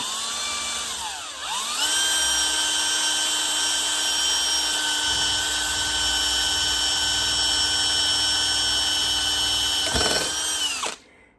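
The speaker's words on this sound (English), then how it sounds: "we're going to drill a couple holes for a safety, second safety" A power drill whines steadily at a high, sustained pitch for about ten seconds, drilling holes in a 1972 Volkswagen Super Beetle to fit a backup hood cable, starting with a quick rev-up and ending as the motor spins down.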